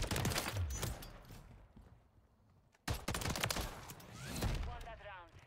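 Rapid video game gunfire, with bursts of dense crackling shots at the start and again after a brief lull, loud and close, with a voice speaking partway through.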